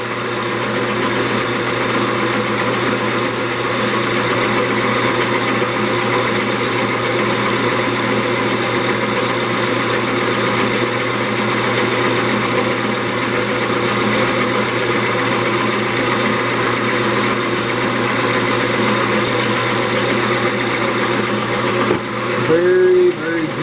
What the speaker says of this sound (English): I'm just going to sand the top layer off.